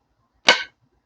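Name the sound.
Gerber Flatiron knife chopping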